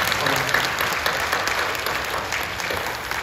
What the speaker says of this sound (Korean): 우리 믿음대교고 축하하고 또 축복하면서 박수 한번 해주시죠